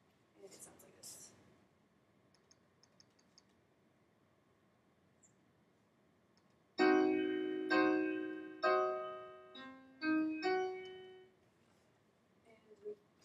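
A diminished chord sounded on a keyboard-like instrument, struck as several separate notes and chords with clear decaying tones, moderately loud after a quiet stretch with faint background noise.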